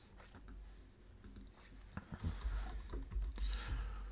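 Someone types an address on a computer keyboard, a quiet, close run of irregular key clicks that speeds up and grows denser in the second half.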